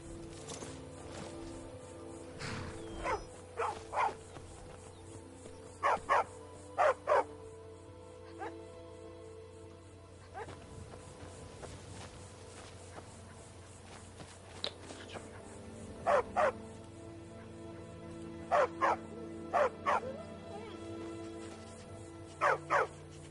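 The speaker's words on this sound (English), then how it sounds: "Is that a dog?" Repeated barking from a dog in the video game Skyrim sounds in short bursts of two or three barks spread across the stretch, set over steady game ambience and background sound.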